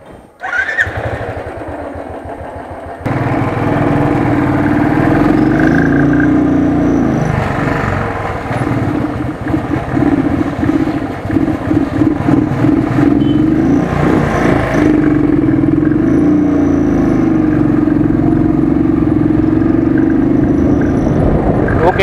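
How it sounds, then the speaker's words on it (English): Royal Enfield Thunderbird motorcycle engine starting and idling steadily during a fuel-draining mileage test, a loud, close, continuous thumping rumble with someone talking briefly over it. "I'll start the engine, so that I'll make sure that there will be no petrol even in engine also"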